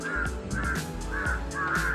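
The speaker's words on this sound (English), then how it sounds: "These birds are following me." Crows caw outdoors in Sri Lanka with four evenly spaced, fairly loud, harsh calls over two seconds, heard close and clear with no talking.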